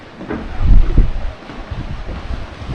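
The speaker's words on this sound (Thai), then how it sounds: "มีลมแรงมาก" Strong wind on Koh Chang island buffets the microphone in loud, low rumbling gusts, peaking early and then settling into an unsteady roar.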